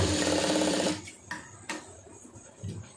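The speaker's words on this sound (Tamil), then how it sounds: "நல்லா தையல் வந்து பொடி தையலாக வச்சுக்கிறோங்க" A sewing machine stitches a sleeve in a fast, even whir for about a second, then stops, leaving soft handling clicks and rustles of fabric.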